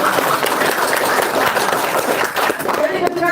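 Audience applause at the launch of the book Jokowi's White Paper, a dense steady wash of clapping over about three seconds with crowd murmur and some voices mixed in.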